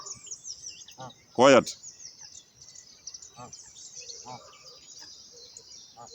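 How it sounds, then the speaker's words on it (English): Birds chirp and tweet outdoors in a high, continuous chorus of fairly faint calls, with a brief loud burst near the start and a voice speaking softly under the birdsong. "these birds are so loud."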